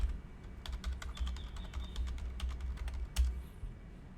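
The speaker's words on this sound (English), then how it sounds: "type the IP address" Someone types an IP address on a computer keyboard, giving a quick irregular run of close, crisp key clicks with one heavier keystroke near the end.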